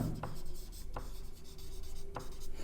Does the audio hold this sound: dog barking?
no